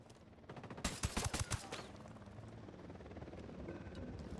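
Helicopter in a tactical shooter video game, a steady low rotor drone running throughout beneath a brief burst of rapid gunfire early on.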